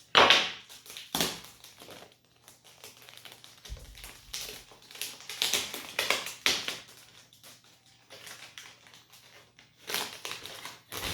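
Crinkling and crushing of packaging as a Xiaoguang 1:18 diecast model of a 1990 Lincoln Town Car is pulled free, with scattered taps and rustles in irregular bursts, close and fairly quiet.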